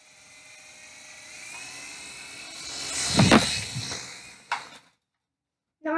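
A radio-controlled model helicopter flies close by with a high, whining rotor buzz that swells to a loud peak, then cuts off abruptly before a short burst returns at the end.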